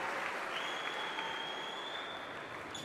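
Spectators at a Cesta Punta semifinal in Saint-Jean-de-Luz-style pelota court clap steadily, a fairly faint, even wash of applause from the crowd lasting throughout.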